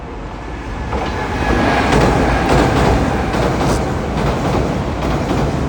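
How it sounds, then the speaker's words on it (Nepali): A train approaches on a JR line in Japan as a loud, rising rumble, with faint rhythmic rail clatter building and holding steady, and no one talking. "उता भक्कै ट्रेन आउँदैछ।"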